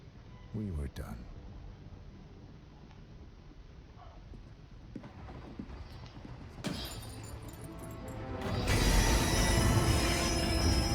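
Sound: train stopping in video game Hitman 3

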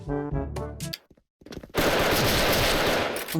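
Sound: gunfire, from a video game

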